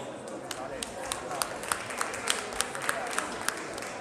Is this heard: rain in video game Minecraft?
no